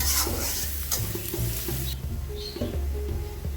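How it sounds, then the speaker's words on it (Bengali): Onions frying in a pan until reddish-brown before beef goes in, a busy sizzle with stirring scrapes in the first half, then a quieter hiss with faint clinks. "পেঁয়াজটা একটু লাল লাল করে ভেজে নিই"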